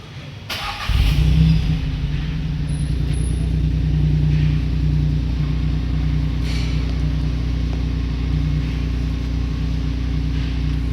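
A vehicle engine cranks and catches after a battery was fitted, then settles into a steady, loud idle rumble that continues to the end with no talk.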